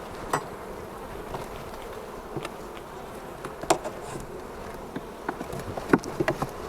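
Wild-caught honeybees at an open hive during an inspection, a dense steady buzz close by with scattered sharp clicks and taps from frames being handled.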